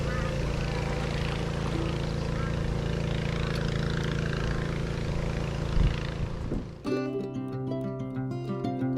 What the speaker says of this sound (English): This is the slowest outboard motor ever.